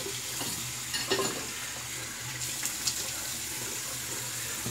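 A shaving razor, a Phoenix Shaving Starling V2 open comb, being rinsed under running water, with a faint steady hiss of flowing water and a few soft splashes and taps.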